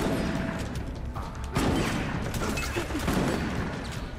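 Dense gunfire and a grenade blast from the co-op shooter Resident Evil: Operation Raccoon City, with rapid shots layered into a loud continuous barrage that thickens midway.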